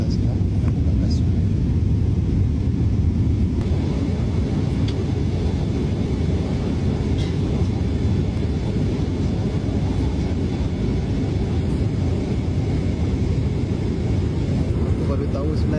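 Steady, loud cabin roar of a passenger airplane during a long-haul flight, a constant broadband rumble with no breaks, heard alone without talk.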